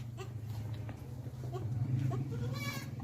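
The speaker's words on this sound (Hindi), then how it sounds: "तो दोस्तों ये मेरी फेवरेट बकरी है जिसका नाम मैंने तोती रखा हुआ है।" A goat on a Pakistani goat farm bleats a few times over a steady low hum, with a wavering cry toward the end.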